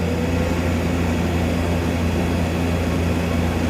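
Refrigeration compressor on a cooler system without a thermostat, running steadily after cycling back on: a loud, constant low hum and drone with no change across the stretch and no talk.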